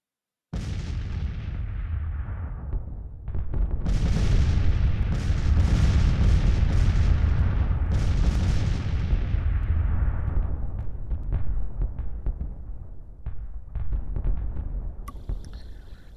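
Cannon fire rolls on in a Civil War battle from the strategy game Grand Tactician, a dense, continuous barrage of booms and rumbling blasts from artillery trading counter-battery shots, loud and sustained with no talking.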